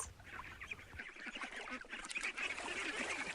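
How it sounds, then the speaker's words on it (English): A duck quacks at a pond in a quick run of repeated, nasal calls over steady outdoor ambience, fairly close and alone, with no talking. "It's a duck."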